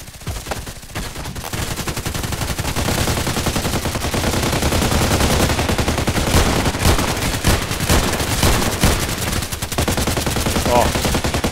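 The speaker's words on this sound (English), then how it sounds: "I can shoot through the wall" Rapid bursts of automatic gunfire from the Contract Wars video game, shot through a wall, rattle loudly and almost continuously for the whole stretch with only brief gaps between volleys.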